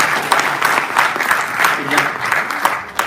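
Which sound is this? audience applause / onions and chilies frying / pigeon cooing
audience applause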